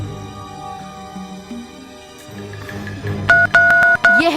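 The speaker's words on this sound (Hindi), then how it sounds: "मैं उसे फोन लगा के देखती हूँ।" A phone plays a string of short tonal beeps after a stretch of quieter background music, the dialing tones pulsing in quick separate bursts near the end.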